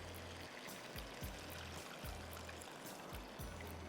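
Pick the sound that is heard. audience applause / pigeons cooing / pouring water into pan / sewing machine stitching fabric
pouring water into pan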